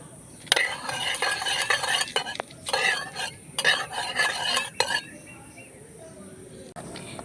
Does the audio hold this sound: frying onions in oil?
yes